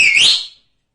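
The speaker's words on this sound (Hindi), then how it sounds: "फिर चूहा सीटी बजाता है" A cartoon mouse gives a single loud, bright whistle that rises slightly in pitch, then fades out in well under a second into silence.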